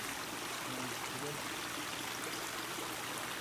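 Water from a garden pond waterfall at night pours and trickles in a steady, dense rush that carries on unbroken throughout, close and fairly loud.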